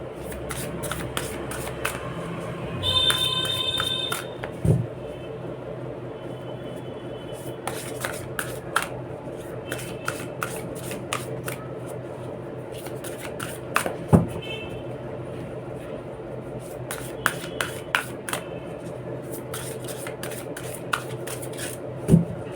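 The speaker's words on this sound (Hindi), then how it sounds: "ये बड़े बड़े कार्ड्स हैं, हमको शफल करने में भी दिक्कत आ रही है" Large matte-finish tarot cards shuffled by hand, a soft continuous rustle broken by scattered sharp slaps and riffles, heard close for the whole stretch with no talking.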